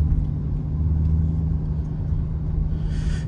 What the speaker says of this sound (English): the truck is loud from factory